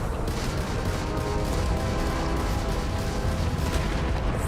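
Spaceship guns firing a barrage in a space-battle video game, a dense, unbroken roar of rapid blasts and booms, loud and sustained throughout.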